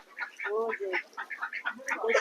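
Ducks for sale at a market quack in short nasal bursts amid overlapping chatter, moderately faint, with calls coming in quick irregular succession.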